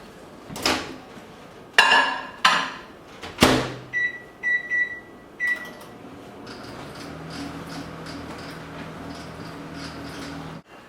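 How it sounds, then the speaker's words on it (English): A microwave oven heating a Healthy Choice Salisbury steak frozen meal: door clunks and beeping keypresses first, then a steady, even electrical hum that runs on alone to the end. "Now I'm going to put this in the microwave."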